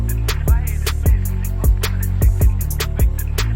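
Synthesized female-style humming from an Omnisphere Pop Female patch, colored with RC20 Retro Color and a tremolo effect. It plays as sustained, wavering tones over a loud, steady beat of punchy drum hits and sliding bass drops, recreating the beat of a song.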